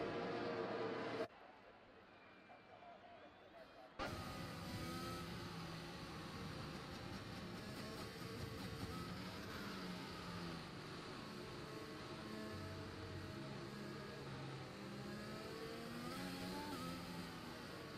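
Several F1 race cars from the F1 2021 video game run behind the safety car at the British GP, a steady droning engine hum that drops out briefly near the start before resuming for the rest.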